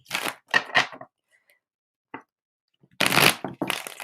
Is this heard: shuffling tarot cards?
yes